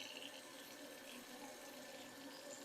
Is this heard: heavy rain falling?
no